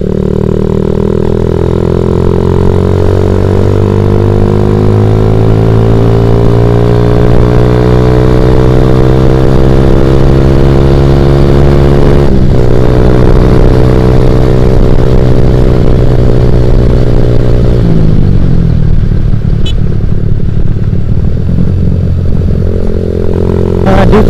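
A ported Suzuki Satria FU motorcycle engine revs loudly and steadily, pitch climbing slowly and holding high before a sudden drop and a rougher, lower run near the end.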